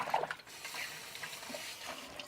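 A cut beet stalk is dipped into a bowl of water in a kitchen, giving soft, faint sloshing and trickling that runs steadily through a short quiet moment.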